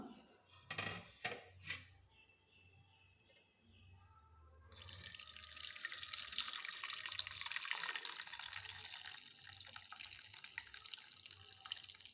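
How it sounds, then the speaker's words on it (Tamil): A few faint drips and clinks, then a steady, close rush of drumstick leaf soup pouring through a strainer into a pot, continuing to the end. "இதில் ஒரு வடிகட்டி வச்சு வடிகட்டிக்கலாம்"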